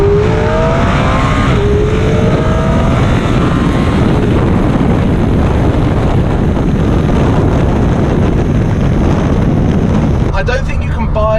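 A McLaren 570S supercar driving on a road, a steady loud engine and road roar with heavy wind buffeting throughout, the pitch rising gradually and dropping away near the end.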